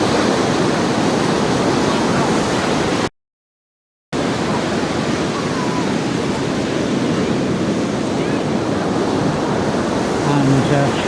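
Loud surf pounds the North Cornwall coast where swimmers in wetsuits are out in the breakers, a constant roaring wash of waves close by, cut by a sudden second-long dropout before the roar resumes.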